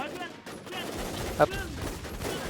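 A Jackhammer gun fires in a video game, a rapid burst of shots with one sharper crack, heard under a player's excited talk.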